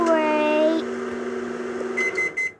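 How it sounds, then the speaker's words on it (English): A microwave oven in the Toca Life World game gives a few short, clear electronic beeps near the end, after a stretch of sustained tonal music and game sounds. "Put it in the microwave."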